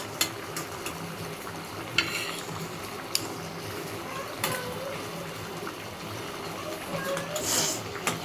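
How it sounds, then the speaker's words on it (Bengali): Pieces of fish simmered down with potatoes in a pan over a steady sizzle and bubbling, with occasional scrapes and knocks of a spoon stirring through the mix. "এখন আমি মাছগুলো দিয়ে ভালো করে আরেকটু কষিয়ে নেব"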